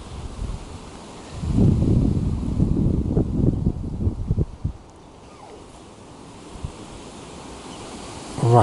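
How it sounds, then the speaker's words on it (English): Wind gusts blowing outdoors in cold weather during bonsai potting work, a broad roaring rush that swells loudly for a few seconds, then drops back to a steady low breeze with no talk. "also it's very windy and it's still cold."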